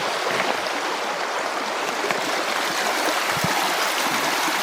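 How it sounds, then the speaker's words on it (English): A shallow, low river in Canterbury, New Zealand, runs over exposed rocks, giving a loud, close, continuous rushing and babbling flow that holds steady throughout without any speech. "The river's nice and low and there's a lot of rocks exposed, so hopefully we find something."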